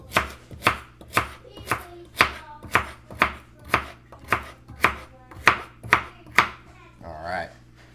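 A steady run of about a dozen brisk knife chops through carrots knocks on a cutting board, close up, followed by a brief rustle as pieces are scraped aside.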